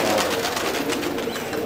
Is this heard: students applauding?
no